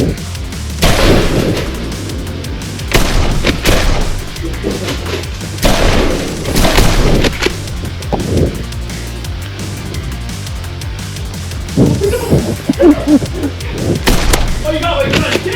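Nerf Rival blasters firing foam balls in a head-to-head match, with loud irregular thumping shots and clattering impacts scattered across the clip, mixed with excited voices.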